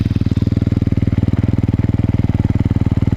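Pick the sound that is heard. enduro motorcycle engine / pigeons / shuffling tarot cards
enduro motorcycle engine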